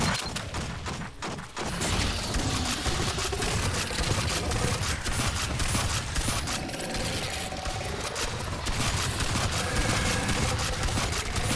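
Dense, continuous gunfire in the video game Aliens Fireteam Elite, rapid automatic bursts rattling on loud and steady with only a brief lull near the start.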